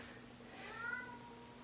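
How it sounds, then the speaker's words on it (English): A house cat gives a soft, drawn-out, mournful meow, faint and somewhat distant against a quiet indoor hum, with no talking. "Oh, my cat's making a very sad noise."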